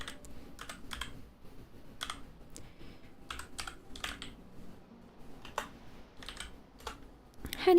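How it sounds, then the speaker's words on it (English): Someone types on a computer keyboard with one hand, producing irregular clusters of crisp key clicks with short pauses between bursts, close and clear in a quiet room. "Typing with one hand, easy, right?"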